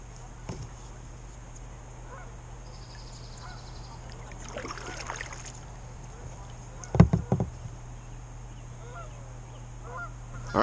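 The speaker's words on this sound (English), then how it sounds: "Plenty of geese out here doing their thing." Faint geese honks carry across open lake water amid steady outdoor ambience, with a few scattered knocks and a louder thump near the middle.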